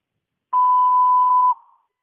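A single steady electronic beep from an automated IVR phone line, held for about a second before keypad entry, clean and alone against silence with a short fading tail.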